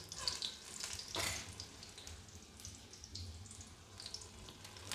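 Potatoes going into a pan of hot oil poured from a drum, giving a burst of sizzling with watery crackle that settles into a steady frying hiss, close by, with no talk.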